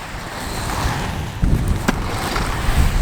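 Roller skates roll over smooth pavement with a continuous, close, gritty rumble that grows slightly louder partway through, and no talking.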